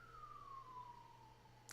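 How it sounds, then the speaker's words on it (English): Police siren wailing somewhere outside a house, a single steady tone sliding slowly downward as it passes at moderate distance, faint beneath a low background hum. "Police sirens going off around my house."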